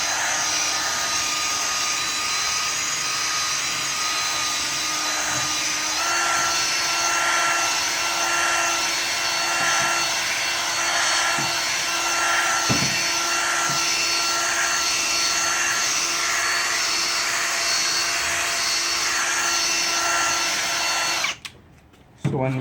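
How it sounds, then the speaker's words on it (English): A power drill spins a polishing disc against a car headlight during restoration, a steady loud whining buzz that holds for about twenty seconds before cutting off near the end. "If the light is not too yellow, then just run the drill pretty fast."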